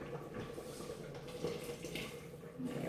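Water is poured into a slow cooker of minestrone soup, a soft continuous splashing trickle, close and fairly quiet, with no talk.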